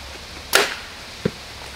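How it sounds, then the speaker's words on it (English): An arrow is shot from a hunting bow toward a box downrange, giving a sharp whooshing release followed by a faint, distant thud of impact about a second later, with no talking. "now I'm going to send this arrow down there at the box and see if I land it"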